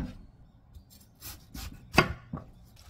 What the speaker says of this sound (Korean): 원하는 크기대로 쓱쓱 썰어줍니다